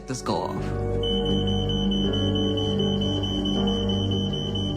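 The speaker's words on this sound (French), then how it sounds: "je dors tranquillement quand mon alarme incendie se déclenche" A home smoke alarm sounds at night, a steady loud piercing electronic tone held continuously throughout, with some indistinct background noise and low rumble beneath it.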